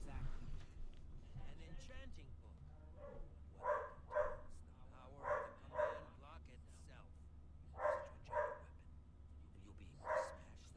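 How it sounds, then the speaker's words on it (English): A dog named Amstel barks in a Minecraft Story Mode game scene, several short double barks at about four-second intervals, moderately loud over a low background score with dialogue earlier on. "Oh, Amstel's barking."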